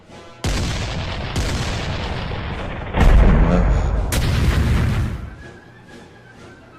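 Cannons fire in heavy booming blasts with a sustained rumble, loud and close, as a voice speaks briefly over the barrage.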